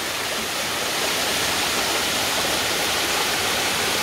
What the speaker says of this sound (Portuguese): Cachoeira Salomão.